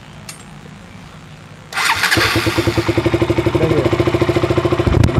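A 200cc motorcycle engine cranks and catches, then runs with a loud, steady pulsing idle close by; a voice speaks briefly beforehand.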